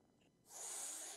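A cat in the Agent A puzzle game hisses at the player: a single short, loud breathy hiss that cuts in after a faint pause and holds steady to the end, with no talk.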